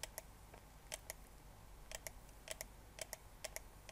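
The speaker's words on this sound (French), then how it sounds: "Je clique de partout." A computer mouse clicks quietly and repeatedly, mostly in quick pairs like double clicks, spread evenly with short pauses between bursts and no talking.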